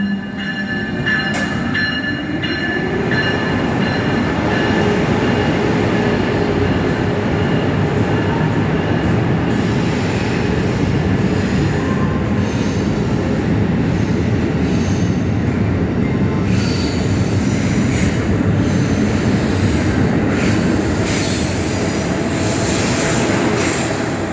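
Amtrak train 2265 rolls into Newark station on track 3, a loud, continuous rumble of wheels on rail with sustained high squealing and clatter building as the cars pass close by.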